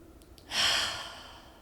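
A single audible breath, a soft exhale released during a gentle shoulder warm-up exercise, close and brief, with no talking.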